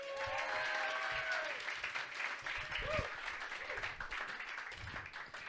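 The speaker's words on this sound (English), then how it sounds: "Make some noise for Ted Barton." Audience applause and cheering in a comedy club as a stand-up comedian comes to the stage, sustained and dense throughout with a few faint voices calling out within the crowd noise.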